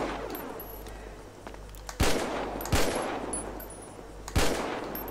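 Three sharp gunshots fired at rocks in GTA V ring out at spaced intervals, each with a trailing echo over a steady low ambient hum, with no talking.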